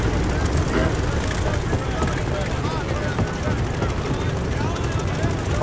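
A World War II plane flying in the video game Call of Duty: Vanguard, a loud, dense, continuous engine drone and wind roar with no break, filling the whole stretch.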